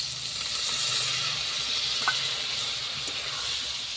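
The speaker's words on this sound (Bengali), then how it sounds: "আর এখন ভালো করে সাঁতলিয়ে নেব" Spice paste sizzling in oil with potatoes for an egg and potato curry, a steady, fairly loud hiss throughout with faint occasional stirring ticks.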